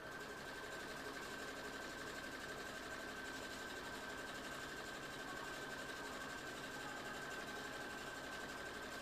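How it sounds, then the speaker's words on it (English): A sewing machine stitches cosplay fabric in one steady, continuous mechanical whir with a fast rattling rhythm, fairly faint and uninterrupted, with no talking over it. "I just want to do a quick little pin and stitch."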